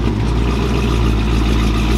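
A 2007 Chrysler 300C idles close by, a steady loud low rumble with an even pulse and no revving, with no voices present.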